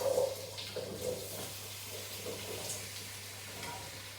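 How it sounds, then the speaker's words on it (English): Onion, butternut squash and potato frying gently in a pan, a soft, faint sizzle with a few stirring clinks, no talk. "Just going to start frying off the onion gently."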